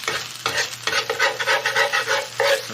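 Garlic fried rice with Spam, bacon, peas and carrots being stirred in a hot pan, a close run of quick scraping and tossing strokes over a crackling sizzle.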